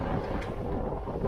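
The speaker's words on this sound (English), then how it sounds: "It's pretty windy, I'm sure it's well over 10 knots." Strong wind buffets the microphone aboard a Catalina sailboat on Lake Ontario near Port Whitby, with whitecaps and about 12 to 15 knots of breeze; a loud, steady broadband rush holds through the whole moment with no voices.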